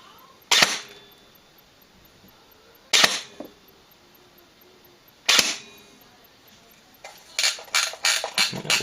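Bolt B4 Keymod airsoft rifle firing 0.25 BBs: three sharp, close single shots a few seconds apart, then a quick run of rapid clicks near the end.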